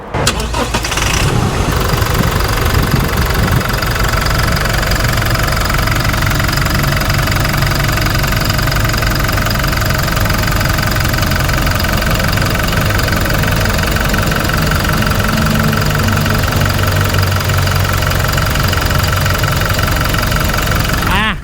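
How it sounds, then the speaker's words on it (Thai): A 2022 Toyota Hilux Revo Prerunner pickup's 2.4-litre diesel engine starts and settles into a steady, loud, clattering idle that runs on without a break. "ฟังเสียงเครื่องกันหน่อย"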